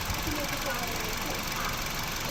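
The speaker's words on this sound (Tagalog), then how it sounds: "malakas yung inig ng makina" A 2017 Suzuki Ertiga engine idles with strong vibration, a steady close rumbling drone with a faint uneven knock, under a noisy hiss.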